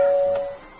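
A doorbell in the video game Minecraft gives a single bright electronic chime that rings out and fades within a second, heard alone.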